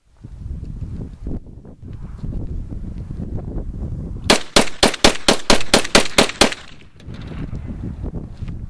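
A Beretta 92 9x19 pistol, used as an unmodified reference weapon for ammo testing, fires about nine sharp, loud shots in quick succession after a stretch of low background noise.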